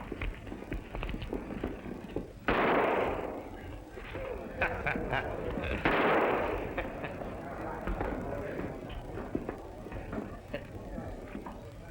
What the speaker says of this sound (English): I'll shoot first.